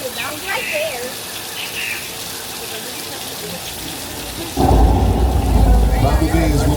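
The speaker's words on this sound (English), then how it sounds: "rain is created by an overhead sprinkler hidden from view" Artificial rain from an overhead sprinkler on a studio set pours down steadily as dense hissing spray, with a faint voice over it, then swells abruptly into a louder, heavier rush of falling water.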